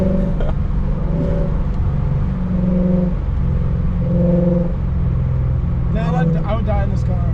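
A modified Lexus RC F V8 rated at over 500 horsepower, with full bolt-ons, revs hard on a back road from inside the cabin, its loud droning engine note rising and dropping through repeated gear shifts, with voices talking over it.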